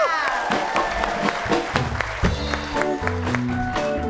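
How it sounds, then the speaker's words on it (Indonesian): Studio audience applause during an Indonesian television comedy show, crowd clapping and cheering mixed with music and voices, loud and continuous throughout. "lagi tepuk tangan untuk Pak Mamat."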